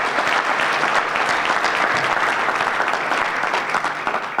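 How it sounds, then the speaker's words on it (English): Audience at a Chamber awards banquet applauds the Lions Club, a dense, steady wash of clapping from a full room, loud and unbroken throughout. "I'd like everyone to clap for the Lions Club"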